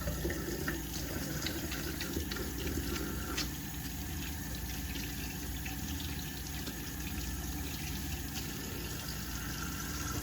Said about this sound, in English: I'm gonna go ahead and wash my hands.